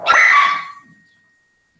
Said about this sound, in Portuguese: a cachorrada está latindo